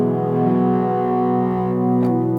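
A sustained, buzzy synthesizer chord with a distortion effect drones steadily, thick and gritty with a chorus-like shimmer and no other sounds.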